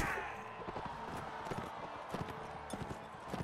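Horses gallop in Mount & Blade Warband, a dense patter of hoofbeats thudding continuously over a busy battle backdrop at moderate loudness.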